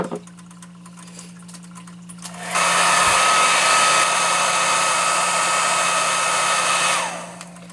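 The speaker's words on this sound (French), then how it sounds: "Et nous recommençons avec le séchoir." Hair dryer switched on to dry water-slide nail decals, a loud steady whoosh with a constant whine that starts after a quiet pause and runs for about four seconds before cutting off.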